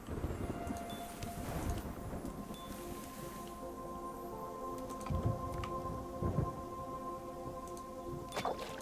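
Steady rain hiss with low rumbling thunder swells in a video game, ambient weather under faint game tones, no voices.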